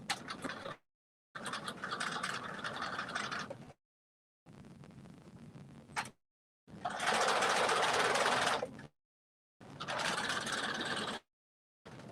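A domestic sewing machine with an edge foot stitches a garment zipper in several loud, steady running bursts separated by short pauses, close and without speech.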